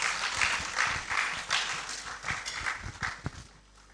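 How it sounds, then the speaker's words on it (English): Audience applause at a university research awards and grants ceremony: a few seconds of uneven, scattered clapping that thins and dies away near the end. "Another round of applause, please"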